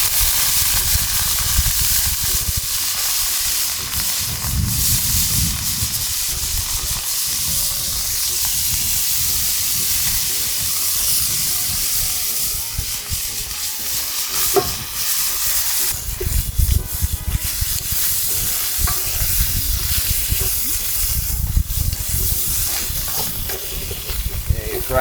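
Saltfish fries in hot oil in a pan outdoors on a Jamaican beach, giving a steady sizzling hiss with occasional stirring and scraping throughout.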